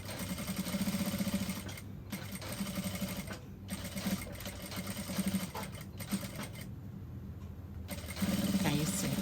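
A sewing machine stitches a puff sleeve seam with a very small seam allowance, a soft, fairly quiet whirring drone that pauses briefly now and then before starting up again.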